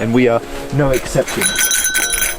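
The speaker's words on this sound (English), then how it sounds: "if you can hear that beautiful ringing noise in the background, everyone has got their bear bells out today" Bear bells jingle on hikers' packs along a trail up an active volcano near Tokyo, Japan, a steady high metallic ringing in the background under a person talking.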